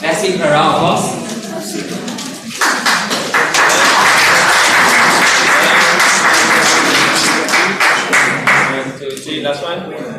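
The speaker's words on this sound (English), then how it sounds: "Let's give her a round of applause." An audience at a Toastmasters contest gives a guest speaker loud, sustained applause, with many hands clapping continuously for several seconds after a brief opening pause. People can be heard talking at the start.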